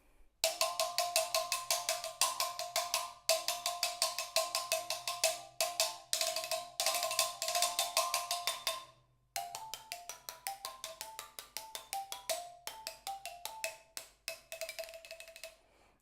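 A prepared marimba struck on wooden dowels gives rapid, dry, rattling pitched strikes in quick runs, with a brief pause midway before more busy patterns, close and fairly loud.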